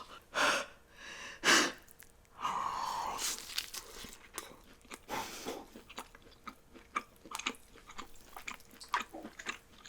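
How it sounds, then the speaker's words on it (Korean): Close-up mukbang eating of a big bite of tomahawk steak: a few sharp bites, then wet chewing and smacking with breathy snorts, quiet and intimate with no talk. "일단 한 입 크게 베어 먹어보겠습니다."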